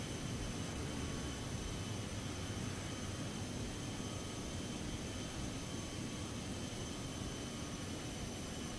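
Citation X business jet engines in Microsoft Flight Simulator 2024 give a steady, even roar with a constant high whine above it. The drone holds unchanged from start to end, with no talk.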